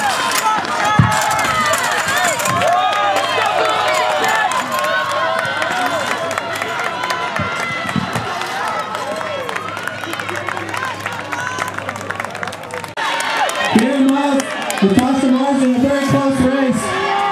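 Crowd cheering at a Petaluma track and field meet, excited shouts and whoops from nearby spectators building and growing louder toward the end, with people talking among them.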